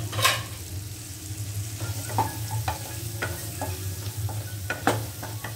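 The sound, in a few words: karanda berries being stir-fried in a pan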